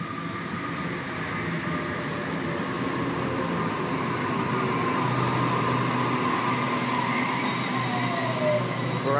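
A Sydney train at Pennant Hills station rolls past steadily with a continuous rail rumble and wheel squeal, fairly distant, the sound swelling slightly midway as a brief hiss of air cuts in; no voices.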